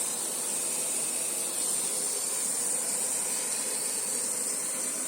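A water jet from an 8mm micro hydro nozzle sprays with a loud, steady, broadband hiss that stays constant and close for the whole stretch, with no talk over it.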